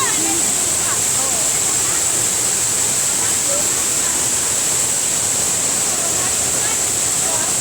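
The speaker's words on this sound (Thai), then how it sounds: "ลงเลยมาถึงแล้วน้ำตก" Steady, dense rushing water roars continuously at Thi Lo Su waterfall, a broad hiss of falling water close by with no pauses.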